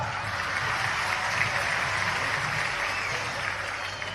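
An audience at a live public rally with the Madhya Pradesh Chief Minister breaks into sustained, dense clapping that stays steady and loud for several seconds.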